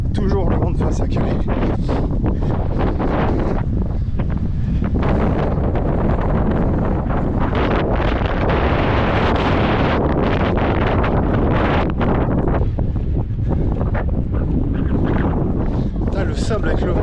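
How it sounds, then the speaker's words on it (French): Strong headwind roaring and buffeting against the microphone while cycling along the beach dike at Calais, a loud continuous gusting rush that fills the whole clip with no other sounds. "Forcément le vent de face. Toujours le vent de face à Calais."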